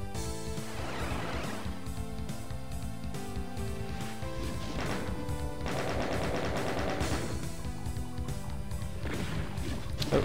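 Gunfire in Doom's Sigil episode, rapid continuous shots hammering away at close range over a dense game soundtrack throughout, with no talk.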